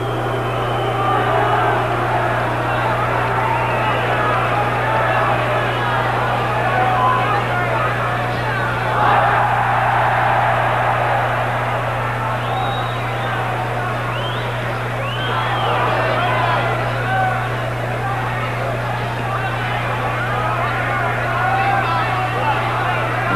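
Boxing arena crowd at the 1972 Foster versus Finnegan fight, a steady loud hubbub of many voices swelling in waves as the champion taunts his opponent, with a constant low hum underneath.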